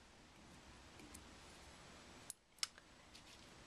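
A pair of small scissors snips the thread tag end while a black stonefly nymph fly is tied on a hook, two quick crisp clicks near the end after a brief hush.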